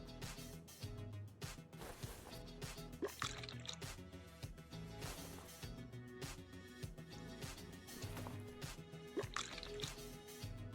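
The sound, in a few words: drain tool draining brake fluid, Car Mechanic Simulator 2021 video game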